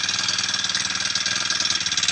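A gasoline grass cutter engine runs loud and close behind a school building, its steady, fast, rhythmic chug pulsing evenly throughout with no voices.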